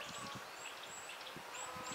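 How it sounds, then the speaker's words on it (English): Outdoor chickens call, soft and distant, in a short stretch of low clucks and brief higher calls against a steady background hiss. "I'm sorry about the noise, but I haven't been able to get up to the chickens yet because of the rain."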